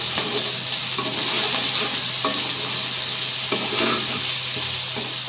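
Frying in a pan, bitter gourd for a prawn dish, gives a dense continuous sizzle close up, with faint stirring scrapes rising now and then; no talking.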